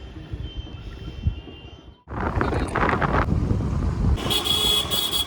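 Heavy road traffic in Nainital near Naini Lake: a distant hum of engines drops out, then loud close traffic noise swells in with passing vehicles, and repeated car horns sound near the end.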